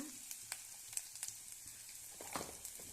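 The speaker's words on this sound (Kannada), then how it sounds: "ಹಸಿ ವಾಸನೆ ಹೋಗೋವರೆಗೂ ಹುರಿಬೇಕು." Goat brain frying in a pan with ginger-garlic paste and ground spices gives a soft, steady sizzle with faint crackles and light stirring clicks, heard up close and alone.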